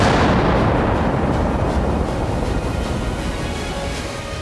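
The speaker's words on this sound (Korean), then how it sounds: "크레모 한 발을 연결하여 원격으로 폭파하겠습니다." A Claymore mine detonated remotely during army combat engineer school demolition training, giving one loud, close blast whose rumbling roar slowly decays over several seconds.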